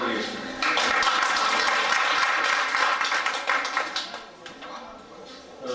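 An audience at a Korean elementary school alumni association board meeting applauds the chairman, a dense, steady burst of clapping that starts abruptly, holds for several seconds, then thins and fades.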